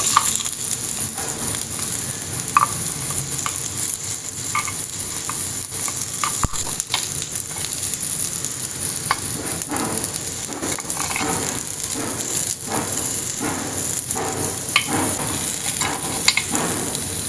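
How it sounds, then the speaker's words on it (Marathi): Rajma veggie bites shallow frying in a pan over a low gas flame, a steady close sizzle of hot oil lasting throughout, with light scraping and stirring clicks scattered on top. "डायरेक्ट पॅनमध्ये असे शालो फ्राय केले तरीही चालेल"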